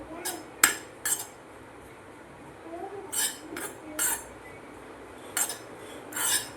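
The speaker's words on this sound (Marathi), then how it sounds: "आता आपण यामध्ये एक वाटी किसलेलं खोबरं टाकूयात याला एक दोन मिनटासाठी आपल्याला तुपामध्ये छान परतून घ्यायचं आहे" A spoon clinks and scrapes against a pan as grated coconut is sautéed in ghee for a modak filling, with sparse intermittent taps, fairly quiet and without talk.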